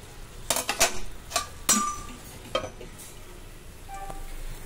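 Metal lid set onto a cooking pot of gently boiling water on a home stove, a handful of sharp clinks and clatters close by, followed by a brief ringing tone and low bubbling hiss.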